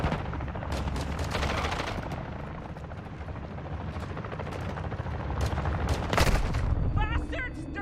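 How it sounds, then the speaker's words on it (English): Enemy gunfire in Call of Duty: Modern Warfare II, sustained bursts of loud automatic shooting mixed with battlefield noise and a helicopter-like drone, with a brief voice near the end. "Bastards! They're shooting at me!"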